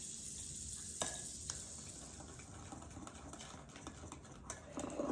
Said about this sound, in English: It's a sizzling.